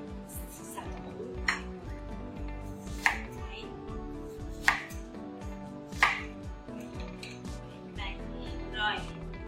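Onion being chopped with a knife on a cutting board in a home kitchen, giving several sharp, irregular knife strikes close by under steady background noise and some talk.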